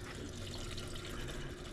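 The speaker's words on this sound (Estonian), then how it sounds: "Nüüd paneme natuke vett juurde" Water running or being poured in while setting up a Nissan 370Z drift car, a steady broadband splashing rush with no voices.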